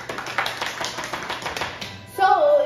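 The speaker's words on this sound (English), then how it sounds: "So round of applause for that." A small group claps in a home kitchen during a Halloween cookie-decorating session, giving a short burst of quick, close handclaps before a brief vocal sound cuts in.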